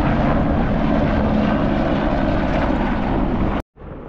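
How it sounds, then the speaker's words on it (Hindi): Helicopter flying low along the river valley near Kedarnath in the Himalaya, a steady loud engine and rotor roar heard from inside, constant for several seconds before cutting off abruptly. "ये हेलीकॉप्टर एकदम नदी के सहारे चल रहा है।"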